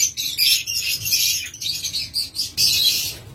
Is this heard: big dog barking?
no